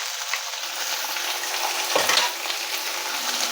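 Crushed ginger and green chili paste sautéing in a pan with cumin, carom seeds and sesame, giving a dense, even, crackling sizzle throughout with one brief soft knock midway and no speech.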